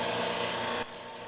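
A fillet knife scrapes through a sharpener in one close, gritty rasping pull that stops abruptly, leaving quiet room tone.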